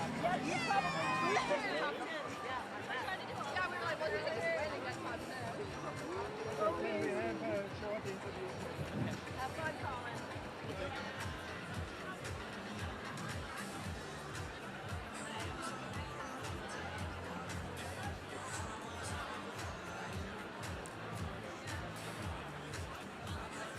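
Crowd at an Innsbruck men's bouldering final in a stadium, a steady murmur of many voices with chatter and some laughter, loudest at the start and settling into a continuous hubbub.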